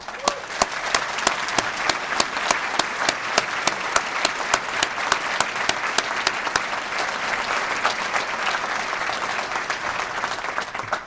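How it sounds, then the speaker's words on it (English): Rousing audience applause at a county executive's State of the County address for the Maryland Teacher of the Year from Hammond High School, many hands clapping steadily with a few sharper near claps, gradually thinning toward the end. "I'd like a rousing round of applause for Jody Zepp of Hammond High School, recently named Maryland Teacher of the Year."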